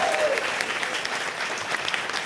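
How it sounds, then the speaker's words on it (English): An audience at an author panel event gives a special guest a big round of applause: dense, steady clapping filling the whole short stretch at an even level, with no voices over it. "And just one last big round of applause for our special guest."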